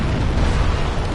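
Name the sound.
explosion in the video game Dark Souls Remastered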